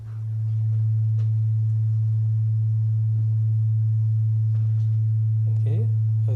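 A pure, steady sine tone sounds alone at a single low pitch, the first of two frequencies in a beat demonstration, fading in quickly and then holding constant and clean throughout.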